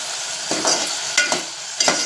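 Onions fry with a steady close sizzle in a pan while a spoon scrapes and stirs through them in a few brief bursts, with no talking.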